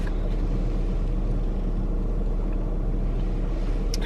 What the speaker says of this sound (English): My car's warming up.